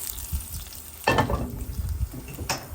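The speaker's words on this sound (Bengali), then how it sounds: "বাগারটা দিয়ে দিচ্ছি" Hot oil tempering with chopped onion and garlic bursts into a sharp sizzle over goat liver bhuna, a sudden loud hiss that settles into steady frying with scraping stirs, flaring again briefly near the end.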